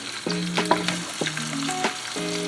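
Peppers and onions fry in a pan with a steady sizzle, while a clear, tonal melody of stepped notes plays loudly over it throughout.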